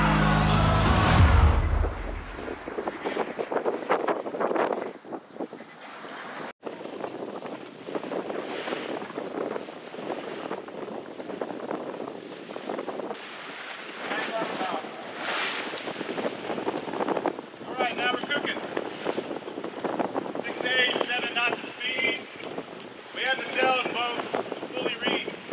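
A sailboat runs on the gusty James River amid whitecaps, with constant wind buffeting the microphone over rushing water and hull noise, a loud gust at the start and scattered creaks and rattles throughout.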